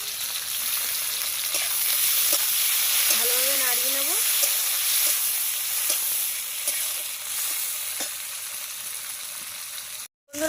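Onion, tomato and slit green chillies fry in oil in a pan for a katla fish curry, making a steady close sizzle with occasional stirring clicks before it briefly cuts out near the end.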